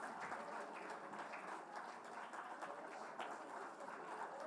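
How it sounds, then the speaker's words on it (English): An audience keeps clapping at an awards ceremony in Chennai, faint and distant, a sustained even wash of many hands with no talk over it. "keep the applause going for a little while longer"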